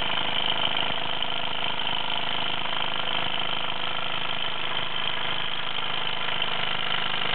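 A small 1948 Mamod SE1 toy steam engine runs smoothly and steadily, a constant even hiss and whir from its little boiler and cylinder that holds at one level throughout.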